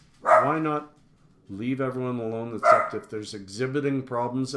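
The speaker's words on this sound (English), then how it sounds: "Sorry about the barking." Dogs bark playfully indoors while people talk over them, the yaps short and close, mixing with the voices.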